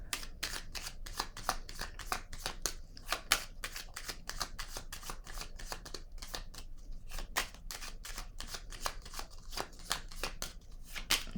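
Tarot cards being cut and shuffled, close and alone, in a long run of rapid crisp riffling flicks with short pauses between bursts.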